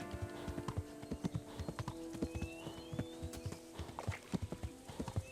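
Hooves of a dappled gray horse clip-clopping in Kingdom Come: Deliverance, a rapid, uneven run of close hoofbeats over a sustained musical drone, with a brief whinny.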